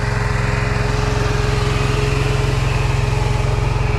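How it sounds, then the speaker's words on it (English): A Walker Model C riding mower runs steadily up close, its engine humming in a loud, even drone with a fast regular pulse throughout and no voices. "I'm going to have Renee start mowing the front with the C"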